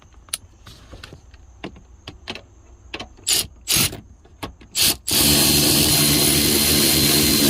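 A series of sharp mechanical clicks and short ratcheting bursts, irregular and close, from a ratchet tightening a Nissan 350Z front seat bolt, followed by a sustained loud whirring grind.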